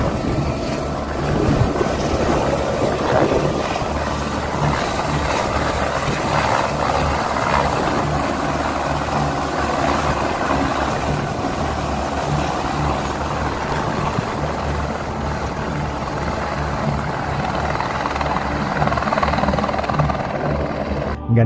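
A helicopter flies overhead with a continuous loud rotor thump and engine whine, holding steady throughout with no pauses.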